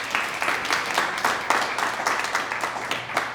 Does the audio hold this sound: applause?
yes